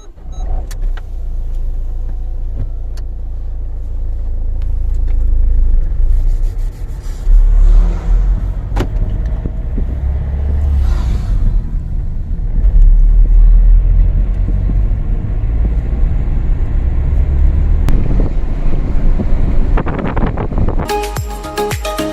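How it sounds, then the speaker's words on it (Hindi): A car is driven along a road with a steady engine rumble and road noise throughout. A few brief clicks and knocks occur inside the cabin, and near the end there is a short burst of rattling. "तो यहाँ से मैं चलाऊँगा गाड़ी"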